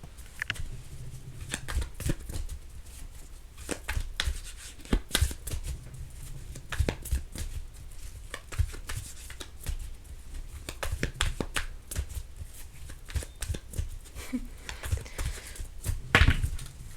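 Tarot cards are shuffled by hand in a steady, close riffling patter that runs the whole time, with soft irregular slaps and clicks and no talking.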